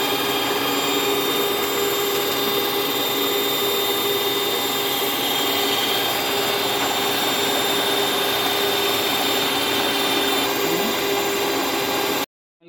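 An electric mixer whips cream for a Nescafé cake, running as a steady continuous motor whir close up with no talking, then stopping abruptly near the end.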